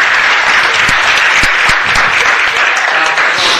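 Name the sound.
audience applause for Doctor Foster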